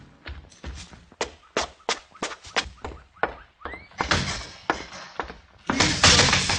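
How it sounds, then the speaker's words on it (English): Door slam in a 1953 radio drama: a rapid run of sharp wooden knocks and thumps builds into heavier slams, ending in a loud burst of broadband noise. "Slam the door, Mr. Cooper."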